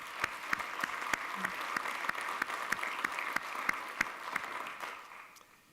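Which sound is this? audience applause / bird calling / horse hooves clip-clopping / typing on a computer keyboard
audience applause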